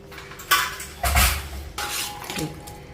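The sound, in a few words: pressure cooker lid being opened and taken off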